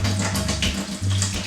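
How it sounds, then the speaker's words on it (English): A couple of gallons of water poured into a pot while making tequila, a close steady splashing gush with a low resonant body, brief and without talk. "I'm gonna start off by pouring a couple of gallons of water"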